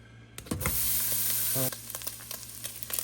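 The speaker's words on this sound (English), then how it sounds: "you start cooking our ground beef" One pound of ground beef sizzles steadily in a pan, a close, continuous fry with a spatula stirring and scraping against it, quieter crackles continuing after the stirring stops.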